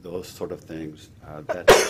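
A single sharp sneeze bursts out loudly near the end, following steady talk by a man during a city council annual planning session.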